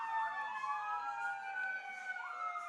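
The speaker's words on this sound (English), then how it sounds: "we got fire department, police vehicles, ambulances, all of the incredible first responders" Sirens from fire trucks, police cars and ambulances wail together at a ballpark promotion at a Niagara Ironbacks versus Batavia Muckdogs baseball game, several overlapping rising and falling tones, loud and sustained.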